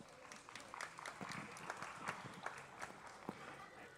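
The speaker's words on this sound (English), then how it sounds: "Let's give all those individuals a round of applause." Scattered audience clapping at a youth livestock show in Kingwood, West Virginia, uneven and moderately faint, with sharp individual claps standing out over low background noise.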